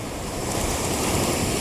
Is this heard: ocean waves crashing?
yes